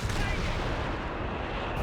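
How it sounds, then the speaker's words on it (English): Howitzer artillery fires in the video game Company of Heroes 3, a dense, continuous barrage of booming blasts and rumbling impacts that stays loud throughout with no gaps. "Howitzer shooting at the Vesper."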